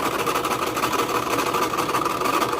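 A sewing machine stitches in the ditch along a quilt-as-you-go seam, its motor humming steadily under a fast, even needle chatter, close and loud without any talking.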